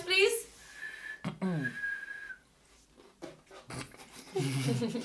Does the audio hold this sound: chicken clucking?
no